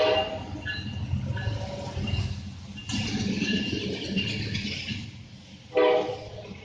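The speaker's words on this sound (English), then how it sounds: "This next train was a good catch. It's led by an SD30C Eco, followed by 3 BNSF locomotives." A freight train led by an SD30C Eco and three BNSF locomotives rumbles past, wheels and cars rolling steadily, with horn blasts sounding near the start and again loudly toward the end.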